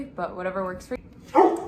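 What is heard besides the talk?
dog barking in the background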